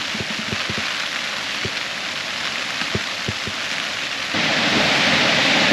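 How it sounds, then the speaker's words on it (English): Heavy rain pours steadily onto a tent pitched on a windy clifftop at night, with a few soft thuds and drips in the first half and the downpour growing louder toward the end. No distinct thunder claps stand out. "It's starting to rain a little heavier now."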